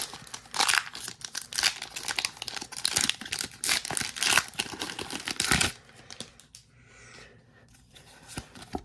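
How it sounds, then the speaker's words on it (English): Foil booster wrapper for Pokémon Scarlet and Violet cards crinkles and tears close up in dense bursts of loud crackling for several seconds, then settles into quieter rustling as the pack comes open. "And now I'm going to open up the pack."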